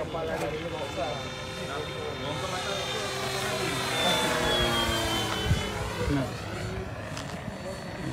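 Steady droning engine sound from an ESS-AIR V2.0 sound unit on a 1500mm RC P-47 Razorback model plane flying at the field, with a continuous buzzing, wavering tone over wind noise.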